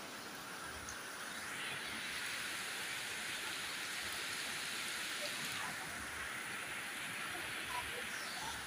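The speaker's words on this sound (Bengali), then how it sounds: "ঝোড়ো হাওয়া, বৃষ্টি।" Heavy rain with gusty wind pours in a steady, dense hiss, with occasional swells as gusts sweep through, fairly distant and continuous with no talk.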